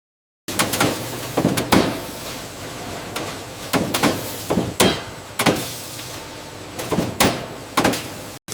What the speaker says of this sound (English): Aluminum is stamped at high speed through multiple stages.